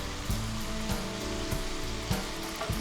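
Lumpia filling sizzles in a hot pan with an even, close hiss, while a low mechanical hum drones underneath and faint scrapes of stirring recur at steady intervals.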